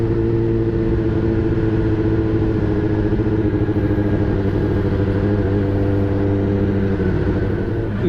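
A Kawasaki ZX10R sportbike rides after its first servicing, its engine holding a steady, smooth drone with layered harmonic tones, loud and close, with no one talking.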